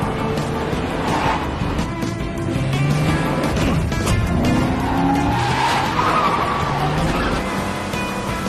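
An old car chases through a film scene with tires squealing and skidding, engine roar and screeching layered densely and continuously at high intensity throughout.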